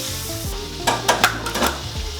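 Eggs sizzle and fry in a pan for a full English breakfast, a close crackling hiss with a few clinks of utensils against the pan, and no talking.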